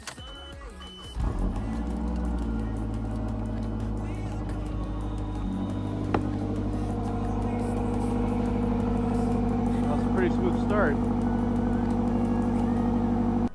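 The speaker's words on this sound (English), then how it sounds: "I'm gonna roll the clip of how it was in the cold start in the morning." Mazdaspeed 3 engine cold-starting on a morning after a spark plug change: a brief crank, then a steady close idle hum that settles and runs on at a constant level.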